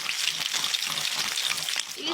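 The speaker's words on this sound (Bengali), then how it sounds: "এবার ইলিশ মাছের মাথাগুলো ভেজে নেব।" Hilsa fish heads fry in a pan, giving a dense, close, continuous sizzle with light stirring noises and no talk.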